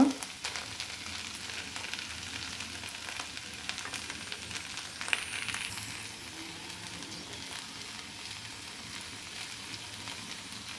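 Okra frying in a pan with fried egg mixed in makes a soft, steady sizzle, fairly quiet and close, with a brief clatter of stirring near the middle.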